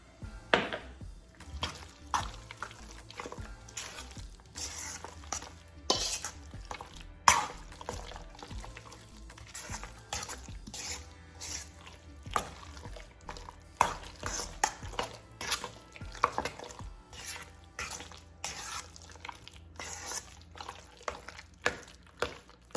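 Pimento cheese is mixed in a bowl, a continuous run of soft, rhythmic squishing and scraping strokes close by, with no speech.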